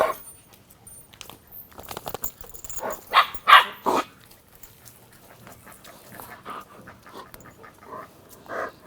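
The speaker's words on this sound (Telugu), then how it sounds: "జర్మన్ షెఫర్డ్ జాతికి చెందిన డాగ్ ఇది" A German Shepherd dog at a resort pants in quick close bursts, with a few sharp barks rising in the middle and faint whimpers between.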